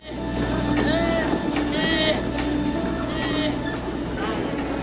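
Rumbling rail noise of a moving train in a film scene, with a steady low drone and faint wheel squeals, under intermittent speech.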